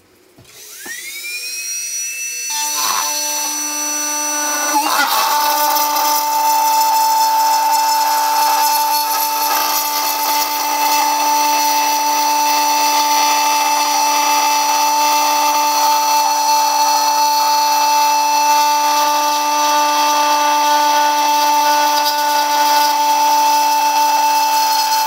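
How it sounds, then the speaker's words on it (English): Tri-cutter acrylic burr grinding holes into a flask, a loud, sustained high-pitched whine that spins up and holds steady for over twenty seconds. "So now we can cut out the holes using the tri-cutter."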